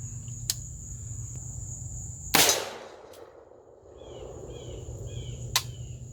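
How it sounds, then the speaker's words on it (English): A single sharp rifle shot cracks out, fired through a scoped rifle at an orange carbon steel target 200 yards downrange, then fades against a quiet outdoor background of chirping insects. "First, we're going to shoot the orange target."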